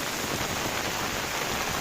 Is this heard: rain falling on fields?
yes